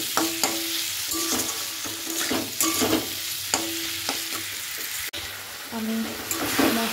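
Potatoes sautéing with ginger paste, tomato and spices, a loud close sizzle with rhythmic spoon strokes and metallic scrapes against the pan roughly every half second, plus a sharp clack near the end.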